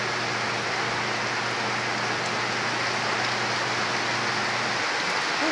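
A downpour drums on surfaces around a house in the Philippines, a thick constant roar of rain, close and loud, with a faint low hum underneath that drops out near the end.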